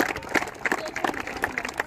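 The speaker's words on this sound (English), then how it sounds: "Let's give them a big round of applause." Audience clapping at a speech event, a brief burst of scattered, fairly close hand claps with uneven rhythm, rising and falling in short waves.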